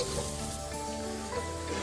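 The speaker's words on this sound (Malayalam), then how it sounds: "നമുക്ക് സോസേജ് നല്ലപോലെ നമ്മൾ ഇളക്കി കൊടുക്കേണ്ടതാണ്." Sausage frying in a pan with a steady, close sizzle that runs the whole time, with faint stirring noises, while a Malayalam dal curry dish is being prepared.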